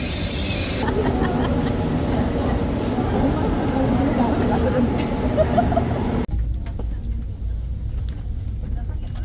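Interior of a moving train on the way to Seoul, a loud steady low rumble with rail clatter, and people talking over it; the background abruptly changes partway through, as if from a cut or a door closing.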